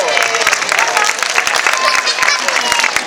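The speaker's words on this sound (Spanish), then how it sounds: "un aplauso para Pascual" An audience claps in dense, lively applause, close and loud, with a few voices mixed in beneath the clapping.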